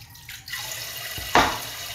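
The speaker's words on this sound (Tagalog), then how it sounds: "Lagyan ng tubig." Tap water runs from a faucet into a cooking pot while making sinaing na bangkulis, a Filipino fish stew. A short, close gush of water swells and then streams steadily, with no talking.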